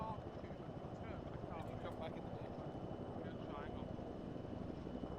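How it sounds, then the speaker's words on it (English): Steady rotor and engine drone from helicopters in a video game fills the background throughout, with voices talking over it. "Can't hear you over the helicopters. The helis are too loud."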